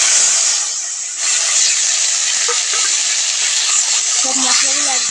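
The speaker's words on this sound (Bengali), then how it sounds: "সব মশলাগুলো একবারে দিয়ে আমি ভালো করে কষিয়ে নেব" A ground paste of cumin, coriander, onion, ginger, garlic and green chili hits a hot pan for potato curry, giving a loud, steady sizzle that runs unbroken throughout, with a voice faintly present underneath.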